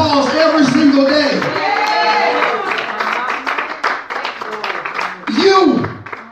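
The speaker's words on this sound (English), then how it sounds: "He might need to give God a round of applause every single day." Church congregation during a Sunday morning service, clapping and applauding loudly with cheers and whoops, a dense crowd roar under talk and calls from the people present.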